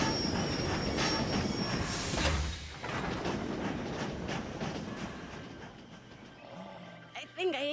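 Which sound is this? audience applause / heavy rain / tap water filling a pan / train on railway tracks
train on railway tracks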